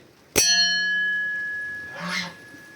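A single strike on a freshly riveted, sanded steel hoe blade gives a clear, ringing metallic ding that sustains for over a second before fading, followed by a brief scraping rustle.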